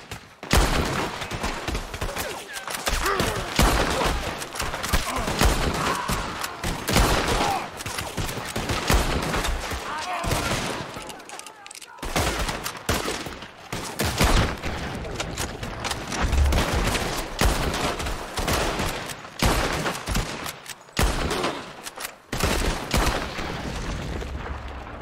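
Red Dead Redemption 2 shootout at a set of gates: dense, continuous gunfire with rapid rifle and pistol cracks and occasional booms, loud and relentless throughout, with brief shouted voices mixed in.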